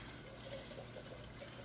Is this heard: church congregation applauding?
no